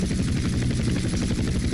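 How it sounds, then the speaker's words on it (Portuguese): Helicopter flying in GTA San Andreas on PS2, a steady loud rotor chop with dense low thumping throughout, no talk over it. "Maneira esse helicóptero."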